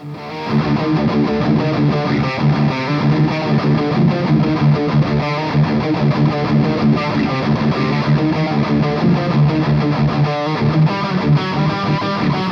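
An electric guitar plays through a JOYO Bantamp XL tweed-style amp pushed into heavy, metal-style distortion, with loud, continuous saturated chords and riffs that run unbroken and close up.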